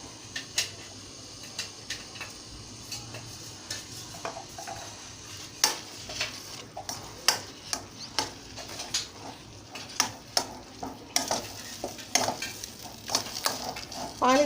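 Ground whole spices and bay leaf fry in a pan for mutton haleem under a soft sizzle, as a spoon scrapes and clinks against the pan in frequent sharp strokes; no one speaks.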